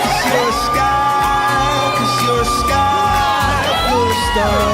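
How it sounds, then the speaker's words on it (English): A huge roadside crowd at the Tour de France in West Yorkshire cheers, whoops and yells continuously and loudly as the riders pass, with shrill voices and excited shouting rising and falling throughout. "the riders have been met with huge crowds throughout West Yorkshire"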